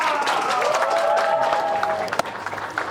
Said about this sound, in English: Please give a wonderful round of applause for our amazing cosplay host.